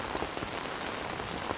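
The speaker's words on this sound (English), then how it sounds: "The rain washed them all away." Steady rain falls across a surface throughout, a dense, even patter with scattered brighter drops and no voices.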